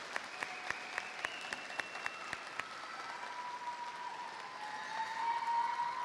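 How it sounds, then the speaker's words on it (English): Soft, steady applause rises from a commencement ceremony audience honoring students, with a few distinct nearby claps at the start and some cheering tones layered over the continuous patter. "Please join me in a round of applause for these students."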